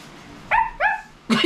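A voice imitates a dog, giving three short yelping barks close up in quick succession.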